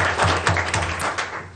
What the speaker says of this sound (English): We could just clap for Philip.